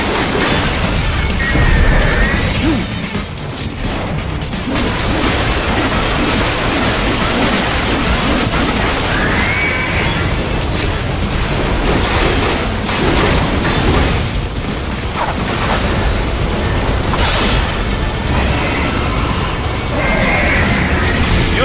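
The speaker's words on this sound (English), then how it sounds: "they swapped out the hydraulic cutter for a plasma cannon" Plasma cannon attack in Metal Gear Rising: Revengeance, heavy continuous blasting and crashing impacts filling the scene loudly with dense game effects.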